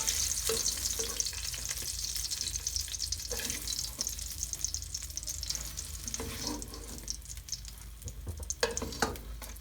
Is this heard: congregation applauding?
no